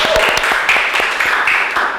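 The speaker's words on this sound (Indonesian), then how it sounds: "Alhamdulillah, tepuk tangan dong." A university audience gives a short burst of scattered hand clapping at a faculty talk, with murmuring voices mixed in.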